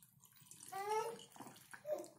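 Water poured slowly into a container while making lemon vinegar at a primary school: a faint, gentle trickle with soft gurgles, quiet and close.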